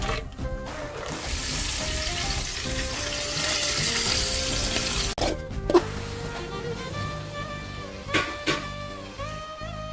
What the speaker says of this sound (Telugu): తర్వాత డీప్ ఫ్రై చేసుకోవాలి.